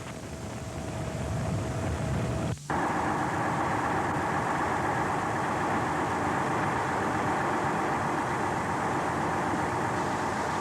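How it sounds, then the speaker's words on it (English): A 450 horsepower heavy-duty tractor hauling 240-ton trailers in Yanbu, Saudi Arabia, 1979, gives a steady, loud engine drone with wind rumble, broken by one brief dropout near the start. "A 450 horsepower heavy-duty tractor is coupled to the front dolly to develop the required pulling force."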